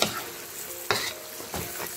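Spices frying with salt and garlic for beef moong dal: a steady sizzle broken by three scraping stirs in the pan, close and clear, with no voices.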